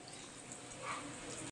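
Water runs steadily over a wok as it is washed, a brief, even splashing rush with a slight swell partway through before it cuts off.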